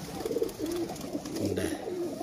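Kasoori pigeons, a golden male with a female, coo in low, throaty rolling phrases close by, several repeated calls with soft background noise and no talking.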